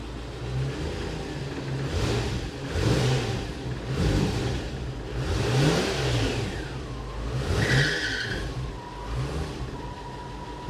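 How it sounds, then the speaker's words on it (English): A Land Rover Series 2A engine revs repeatedly with a little choke on, the surges rising and falling in waves, and a slipping belt gives a high squeal near the end. "Oh, we've got belt slip."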